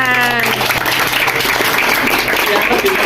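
Audience applause in a hall at a school history discussion in Gresik, sustained loud clapping throughout, with a voice briefly audible over it at the start.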